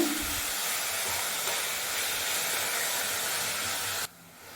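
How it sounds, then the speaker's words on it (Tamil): Spinach sautéing in hot oil gives a steady, even hiss that holds for about four seconds and then drops away suddenly to a faint background. "இந்த எண்ணெயில் அந்த கீரையை ஒரு நிமிஷம் வதக்கி விட்டுக்கோங்க"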